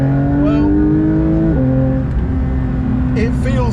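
A Porsche 992 GT3 engine revs up and shifts, holding a loud rising tone that drops at a gear change and climbs again, close and prominent, with someone talking over it.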